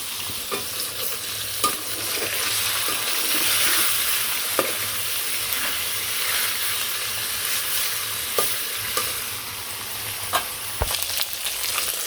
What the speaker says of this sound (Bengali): তো উল্টে পাল্টে মাছগুলো ভেজে নিলাম।